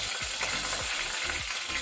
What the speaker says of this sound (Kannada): ಈಗ ಇಲ್ಲಿ ಸಾಸಿವೆ ಫ್ರೈ ಆದ ನಂತರ ಕರಿ ಲೀವ್ಸ್ ಒಗ್ಗರಣೆ ಸೊಪ್ಪು,